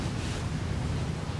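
Stormy sea with a roughly 40-knot southwest wind roaring over crashing waves, heard from aboard a crab-fishing boat: a loud, constant broadband rush that never lets up.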